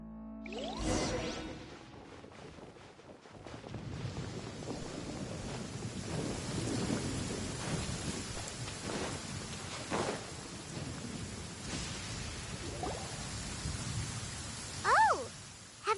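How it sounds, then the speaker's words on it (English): Thunderstorm with rain in a video game: steady rain hiss under rolling thunder that swells through the middle, with a sharp crack near the start and brief whooshing gusts later. "Where is the storm headed?"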